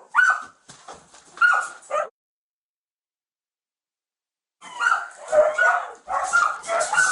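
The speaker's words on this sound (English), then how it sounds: "There were no fewer than 15 malnourished dogs trapped in the home." Dogs barking inside a home where many malnourished dogs are kept, bursts of close yapping and whining that break off into silence and then resume in a busy, overlapping cluster.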